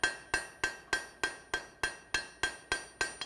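A hammer strikes hot forged steel at a blacksmithing conference, knocking off scale in a steady run of about eleven sharp, ringing blows, loud and close, with each impact decaying quickly before the next.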